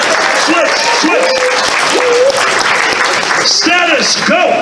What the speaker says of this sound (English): Guys, give them both a round of applause